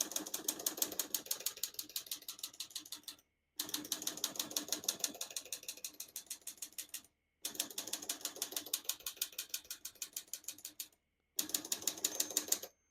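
A 1954 Olivetti Lettera 22 manual portable typewriter clacks away in rapid, steady keystrokes, broken into several long bursts by short silent pauses.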